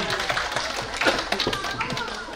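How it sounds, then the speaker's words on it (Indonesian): Clapping from a small audience at an evening stargazing picnic, a few scattered, uneven hand claps over a short moment, fairly close and modest in volume, with some voices in the background. "Oke, selamat tepuk tangan."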